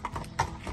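Horse hooves clip-clopping on a hard surface just after hoof treatment, several close, fairly even steps heard alone without speech.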